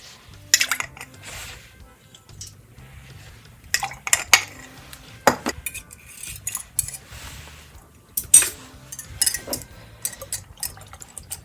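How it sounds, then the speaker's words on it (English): A spoon stirs warm milk into yogurt in a jar, giving scattered sharp clinks and scrapes against the glass with soft liquid swishes in between, separated by quiet gaps. "Just going to stir that in"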